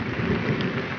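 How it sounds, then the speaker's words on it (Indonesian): Rain pouring down on a chili pepper farm, a dense, steady hiss of drops with a low rumbling undertone and no voices. "Waduh, hujan nih kawan-kawan."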